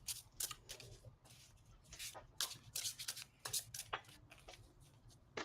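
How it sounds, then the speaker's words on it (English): Tarot cards are shuffled by hand, a rapid series of crisp riffling and slapping bursts, close and fairly quiet, repeating steadily with short pauses between. "While you're shuffling"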